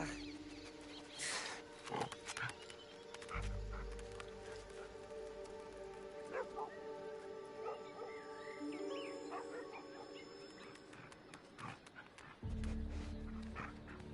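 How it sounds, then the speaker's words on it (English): A dog barks several times in Assassin's Creed Odyssey, the short yaps set among dense game music and ambient effects, fairly faint within the mix, with low rumbling thumps partway through and no clear talk. "It's a nice dog."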